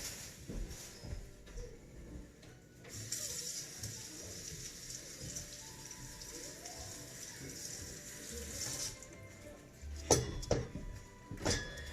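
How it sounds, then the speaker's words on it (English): Tap water runs steadily into a sink while cabbage is rinsed, a faint hiss with a louder splashing burst near the end. "I should probably rinse it off a little bit."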